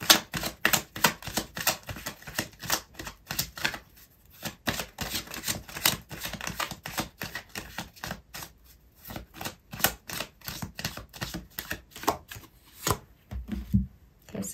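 Tarot cards are shuffled and drawn by hand, making a long run of crisp, rapid riffling clicks and flicks close up, broken by brief pauses.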